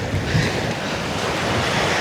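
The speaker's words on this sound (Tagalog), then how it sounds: "Grabe, ang lakas ng hangin." Strong wind buffets the microphone in a constant roar, with surf rumbling beneath at a beach on Polillo Island.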